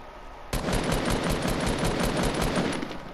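Sustained automatic gunfire from the Fortnite video game bursts in after a short quiet start, a loud rapid rattle of shots continuing steadily to the end with no talk over it.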